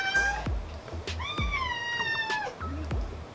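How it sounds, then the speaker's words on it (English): A cat meows indoors, three drawn-out, rising-and-falling calls, close and fairly loud, with a low, steady hum underneath. "He meows and then runs away like fucking Lassie."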